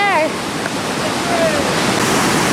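Whitewater rapids on the Lower Gauley River roar loud and continuous, with a brief voice-like whoop at the start and another faint call partway through.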